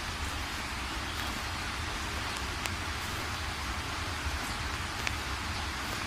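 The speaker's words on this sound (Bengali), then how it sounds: "মুষলধারে বৃষ্টি হয়েই যাচ্ছে" Torrential rain falls at night outside an abandoned house, a steady, unbroken wash of hiss over a low rumble, with no voices.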